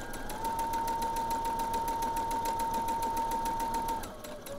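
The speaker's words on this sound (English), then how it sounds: "Line up the edges, hold the tension," A sewing machine runs in one steady, continuous stitching burst lasting about four seconds, with a constant whine, as it sews fabric seams for knickers, then stops.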